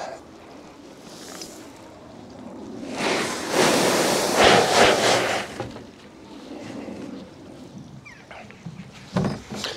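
Gravel pours into a pond liner in one rushing, gritty burst lasting a couple of seconds, set between quieter rustling and a few scattered knocks nearby.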